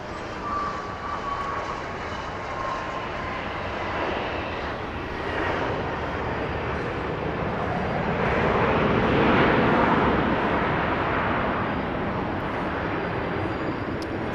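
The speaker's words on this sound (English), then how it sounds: "I also don't mind the loud plane noises." Airplane engines at Dallas Love Field airport, a broad steady roar lasting throughout that swells louder around the middle as an aircraft draws closer, then eases slightly, with no talk over it.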